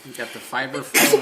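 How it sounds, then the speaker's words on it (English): A single close, loud sneeze bursts out at the end after a brief stretch of talking. "I'm gonna sneeze."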